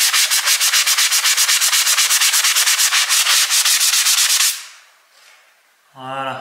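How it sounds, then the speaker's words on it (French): A small hand sanding block rubs across a toilet waste pipe surface in quick, even back-and-forth strokes, close and crisp for several seconds before stopping, followed by a brief voice. "Donc là, avec la petite cale, on va aller la poncer."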